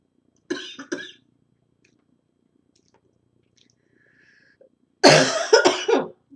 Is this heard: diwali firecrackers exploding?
no